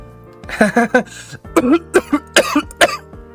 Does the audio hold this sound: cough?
yes